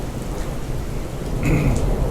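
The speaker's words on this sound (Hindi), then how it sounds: "तेज़ बारिश और तूफ़ान है।" Heavy, unseasonal mountain rain pours steadily during a thunderstorm, heard from under a balcony, with a low rumble of thunder building beneath the constant hiss of the downpour.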